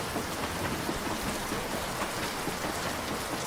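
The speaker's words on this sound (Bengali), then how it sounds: "বৃষ্টির ফোঁটা ট্রেনের ছাদে বাজনা বাজিয়ে চলল ক্রমাগত।" Heavy rain drums steadily on a train roof as a cartoon-style effect, a dense, even hiss of close drops, with soft distant rumbles that suggest thunder.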